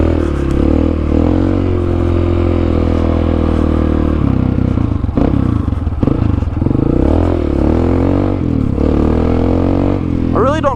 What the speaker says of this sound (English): Now that the exhaust is like loud and shit, it's like a real dirt bike.